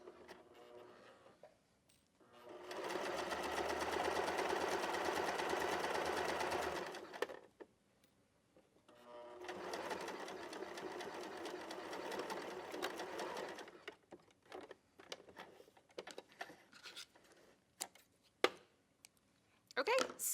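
A sewing machine stitches a double hem close to the inner folded edge of fabric in two steady, even runs of close whirring separated by a pause, with handling clicks and brief talk around them.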